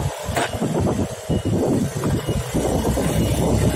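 Honda Beat ESP scooter engine running steadily up close after pulling away from a stop on an uphill road, a continuous low engine drone with throttle swells and no talk.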